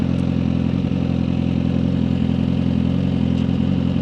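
A Suzuki GSXR 1000R motorcycle engine held under light throttle at steady revs, a continuous close mechanical drone with faint clatter and no voices.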